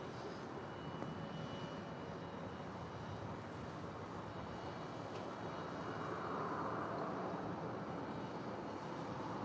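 An airliner takes off from runway 24 Left at LAX, a broad, steady engine roar heard from a distance that swells slightly toward the end.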